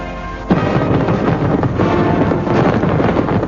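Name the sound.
fireworks display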